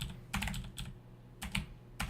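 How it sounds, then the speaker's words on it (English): Close, quiet typing on a computer keyboard in short bursts of keystrokes separated by brief pauses. "I swear to God I'm not this slow at typing normally."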